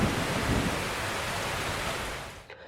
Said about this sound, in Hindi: आसमान में काले बादल इस तरह गरज रहे थे जैसे कोई युद्ध चल रहा हो।